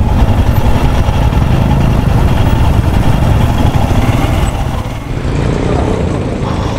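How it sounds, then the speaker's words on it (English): Motorcycles idling as riders park at a marina, a loud continuous low engine rumble close by with wind noise, and voices partly audible over it. "we're going to park our bikes here"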